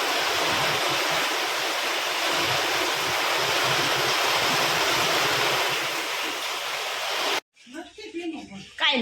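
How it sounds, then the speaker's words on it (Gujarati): Heavy rain pours down in a dense, even roar lasting most of the clip, then cuts off abruptly, followed by a short stretch of voices talking. "વરસાદ પડે છે."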